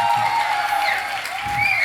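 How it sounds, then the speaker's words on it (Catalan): A school talent show crowd gives loud applause for the circus teacher, dense clapping throughout with a faint cheer and a sustained tone underneath. "un fort aplaudiment, perquè encara que queda una actuació de circ, al nostre profe de circ"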